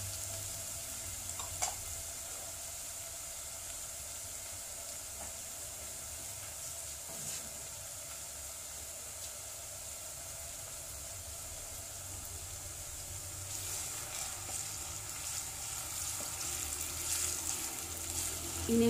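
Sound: frying green chili paste in a pan for chicken karahi

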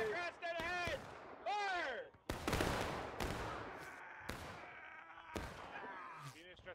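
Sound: musket volley firing in the video game War of Rights

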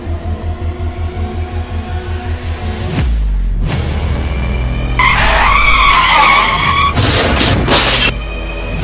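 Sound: motorcycle skidding

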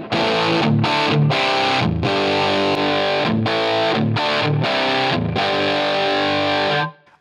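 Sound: guitar tone through Line 6 Helix 57 microphone model

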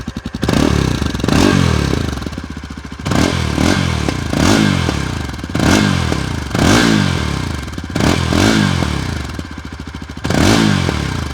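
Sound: Yezdi Adventure 2025 motorcycle starting and exhaust note

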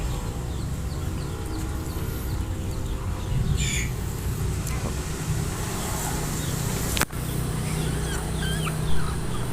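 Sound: chickens squawking in a coop

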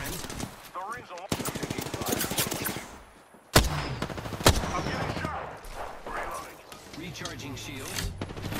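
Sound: gunfire in the video game Apex Legends

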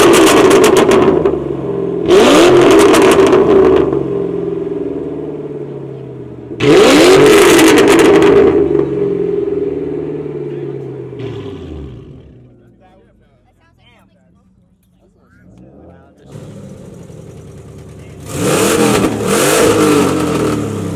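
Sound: loud car engine revving

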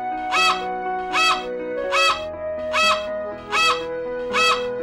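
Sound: flamingo call from a kids' animal learning game

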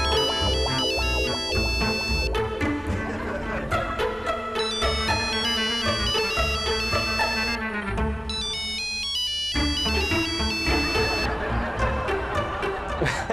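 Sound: mobile phone ringtone, call repeatedly cut

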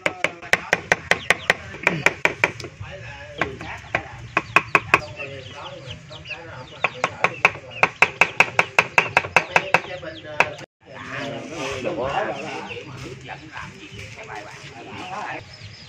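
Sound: mincing garlic with peel and lemongrass with knife

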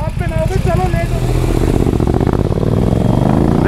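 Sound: motorcycle engine starting and revving

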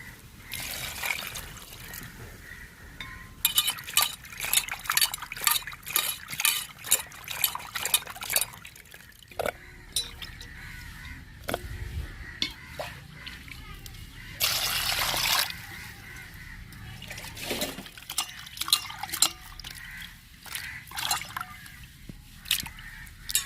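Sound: washing cut dried fish in water

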